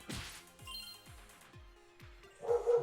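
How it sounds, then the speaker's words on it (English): A dog barks in the background of a video game interview, a quick series of about six sharp woofs at a steady pace, moderately loud, followed by a rising rustle. "the dog in the background is sensing the attacks coming"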